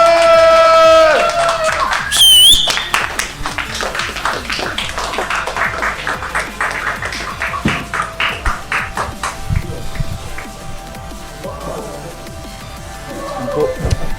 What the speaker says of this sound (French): Plus d'applaudissements, plus de bruit.